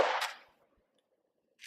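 A single sharp report from a Gen 2 Glock 23 pistol at a shooting range, loud and close, decaying quickly into near silence, with a faint metallic click at the very end.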